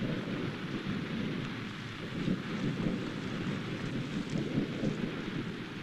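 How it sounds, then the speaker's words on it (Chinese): A thunderstorm with steady heavy rain, heard as a dense continuous hiss of rainfall over low rumbling thunder that swells and rolls at intervals, with no voices. "下雨了，打雷了"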